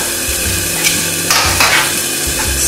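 Meat cooking in a pan during a home cook-along alongside ramen, giving a steady, close sizzle with occasional stirring scrapes and knocks throughout, with no voices.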